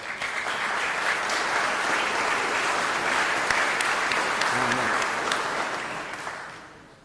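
An audience at a civic association's annual meeting gives dense, sustained applause, loud and even across the hall before it fades out at the end.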